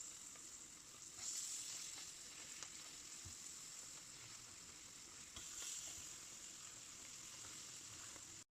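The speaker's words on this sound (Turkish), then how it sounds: "dilimlemiş olduğumuz hellim peynirlerini arkalı önlü kızartalım" Halloumi cheese slices fry in a pan, oil sizzling and crackling steadily, a continuous close frying hiss with no talking.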